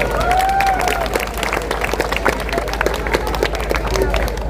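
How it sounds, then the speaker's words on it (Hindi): Crowd applauding at a rally, a dense, steady wash of clapping and cheering that fills the whole stretch, with voices and a brief tonal call riding over the noise. "तालियां बजा लीजिए"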